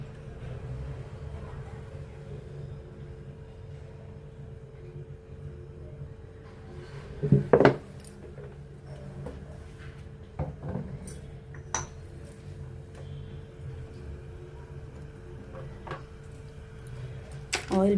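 A metal ladle clinks against a pan while oil is poured in for a cumin tempering, with a few sharp clinks and taps standing out over a quiet kitchen background.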